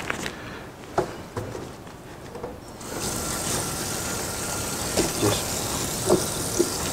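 Running tap water rinses hog head meat in a kitchen sink, a steady broadband flow starting after a quieter opening with a few soft knocks and clunks of the meat and pan.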